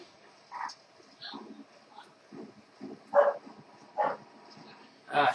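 A dog barks and yips repeatedly in the background during a Black Ops game session, irregular short barks spread across several seconds at moderate distance, with quieter whimpery yips between the louder ones.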